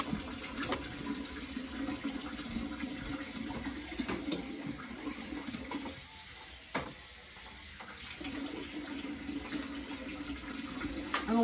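Water runs in a sink as dyed fibre from a botched dye batt is rinsed, a faint steady hiss and trickle with a few brief clunks and a short lull midway.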